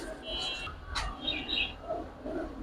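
Giribaz high-flyer pigeons, including a grizzle, coo and chirp faintly in a pigeon seller's loft, with brief soft calls rising over a low background hum.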